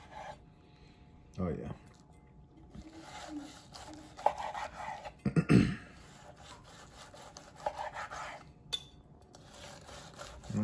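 A knife slices a butter-basted ribeye steak on the bias at an angle. Short, rasping sawing strokes come in a few separate bursts, close and moderately loud, with brief talk between them.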